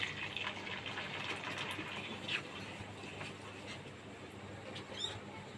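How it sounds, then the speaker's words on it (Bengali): Half a cup of milk pours into melted sugar in a pan, a soft, steady liquid hiss and gurgle heard close but quiet, with a few faint clinks. "এবার আমি এখানে হাফ কাপ দুধ দিয়ে দেবো।"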